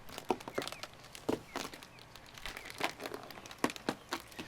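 Vinyl wrap being peeled off a boat hull, giving a run of crinkly, crackling tears in short bursts that come and go over several seconds, fairly close and moderately quiet.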